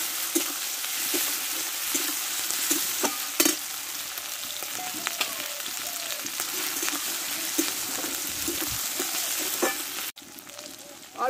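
Chopped tomato hits hot oil in a pan of chana dal, giving a steady close sizzle broken by scraping and stirring clicks throughout, with a short break near the end.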